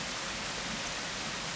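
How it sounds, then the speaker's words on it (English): Heavy rain pours down outdoors in July, a dense, steady hiss of rainfall close by with no breaks and no voices. "Right, 1 hour later and it's still pissing down with rain."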